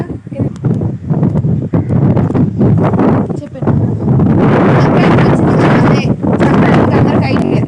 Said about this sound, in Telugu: గాలి మటుకు మామూలుగా వచ్చింది ఇలా వచ్చింది అనమాట